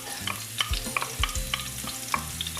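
Garlic added to shrimp frying in a pan for tomato basil shrimp pasta, a steady close sizzle with a rhythm of spatula stirs and scrapes, loud and without talking.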